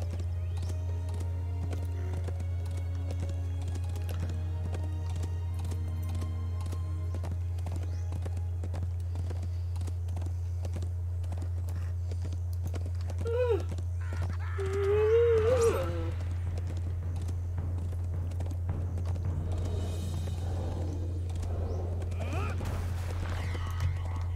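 Horse hooves clip-clop steadily in a video game under a constant low hum, with a person talking over the plodding rhythm through most of it.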